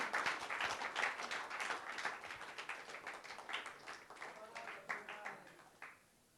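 Applause from an audience at a film first-look and song teaser launch event for The Battle of Bhima Koregaon, a dense, sustained clapping that continues for several seconds before thinning out toward the end.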